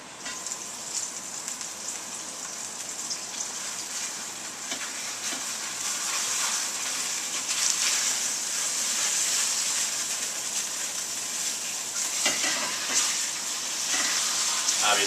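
Meat frying in a pan under a lid, a continuous crackling sizzle that grows slightly louder midway, with occasional sharper pops and stirring sounds.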